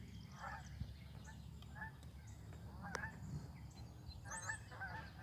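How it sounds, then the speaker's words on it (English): Geese honk in brief bursts as they fly overhead, their calls clear but not loud, repeating in clusters above steady outdoor background noise. "Here comes the geese, listen."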